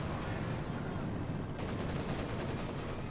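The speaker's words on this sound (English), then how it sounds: "Machine gun team there, 13 kills" A machine gun team in Company of Heroes 2 keeps up rapid, dense fire throughout, a continuous rattling barrage over a busy battlefield din.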